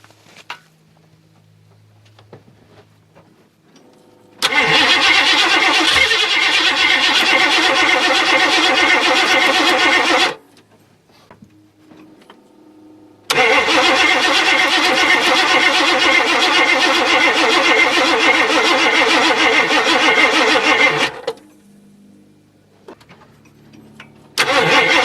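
A Ford Granada's engine cranks over in two long, loud bursts of several seconds each, separated by pauses, failing to catch and start.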